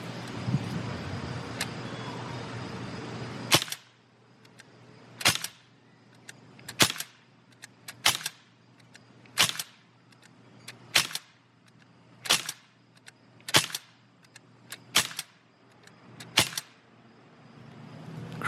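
Sig MCX air rifle firing Crosman Pointed pellets: about a dozen sharp, snappy shots spaced roughly every second and a half, each with a brief metallic ring, fairly close, after a short stretch of rustling handling.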